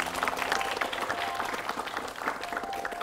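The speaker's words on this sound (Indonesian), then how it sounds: "Tepuk tangan dulu." An audience claps together at a religious talk broadcast on television, with steady applause at close range filling the whole moment, while a faint crowd murmur carries underneath.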